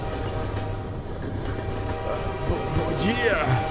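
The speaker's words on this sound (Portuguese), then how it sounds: "Trem." A train rumbles past in a Half-Life 2 mod, Transmissions: Element 120, with a steady low rolling roar throughout and rising screeches and clanks near the end.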